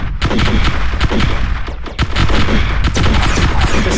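Starship weapons in a space strategy game, Star Drive 2, fire in a loud, dense, continuous barrage of rapid blasts and booms, with no voices over it.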